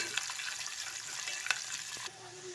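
Onion frying in oil for a raw prawn curry, a soft continuous sizzle with a few light stirring knocks, fairly quiet, then the crackle eases near the end.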